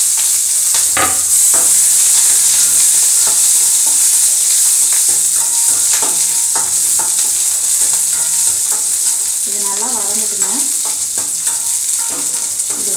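Onion fries in castor oil in a pan alongside curry leaves and chilies, a loud continuous sizzle broken by sharp spatula scrapes and stirring knocks, with a brief warbling tone partway through.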